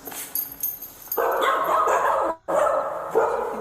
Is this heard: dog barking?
yes